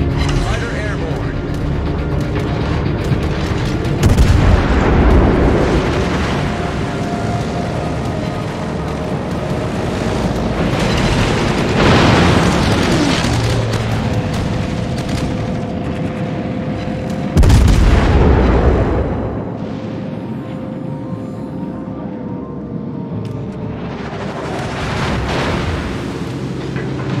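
A battleship explodes and is destroyed in a naval combat game, heard as several loud, deep booms and rumbling blasts with tonal engine and game sounds between them, under the voices of people talking.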